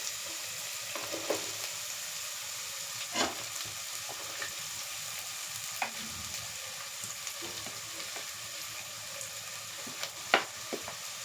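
Onions and green chillies fry in a pan for a chicken curry with spinach. A soft, steady sizzle runs under occasional light spatula taps and scrapes, close but fairly quiet, with no talking.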